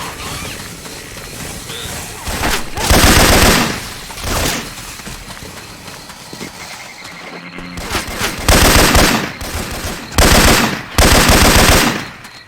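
Gunfire from Left 4 Dead 2 with swapped Syphon Filter weapon effects: loud bursts of rapid automatic fire come in several separate volleys, with gaps filled by game noise and brief voices.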